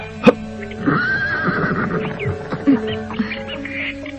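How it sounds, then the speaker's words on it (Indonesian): A horse gives a clear, drawn-out whinny lasting a couple of seconds, set in a period drama scene where a couple prepares to ride off together; a few brief thuds and light background noise surround it, with no talking. "Aku akan segera memacu kuda ini"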